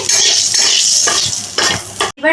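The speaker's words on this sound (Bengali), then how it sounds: "ফোড়ন দিলাম একটু ভেজে নিচ্ছি" Whole spices tempering in hot oil in a pan for Bengali begun bahar give a loud, steady sizzle. Stirring scrapes sound close by. The sizzle cuts out briefly near the end before resuming.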